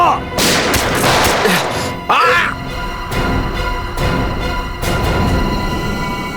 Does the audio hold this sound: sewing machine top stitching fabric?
no